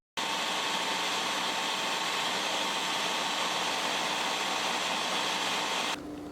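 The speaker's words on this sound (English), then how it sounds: "I just kind of take a handful and blend that in with everything else." A blender whirs at high speed, blending a smoothie of water and baby spinach; the dense, loud roar starts abruptly and runs steadily for about six seconds before easing to a lower hum, with no talking.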